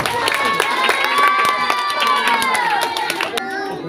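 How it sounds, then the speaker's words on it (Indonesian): A crowd of schoolchildren at an Islamic quiz competition claps and cheers loudly for the teams, a dense burst of clapping mixed with shouts and voices, with a few sharp louder claps near the end. "Tepuk tangan dulu untuk semua regu."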